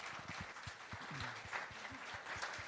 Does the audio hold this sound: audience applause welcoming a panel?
yes